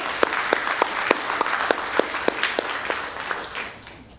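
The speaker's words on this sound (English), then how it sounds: "Give that escort a round of applause." A crowd applauds steadily, with sharp individual claps standing out through the dense patter before it fades toward the end.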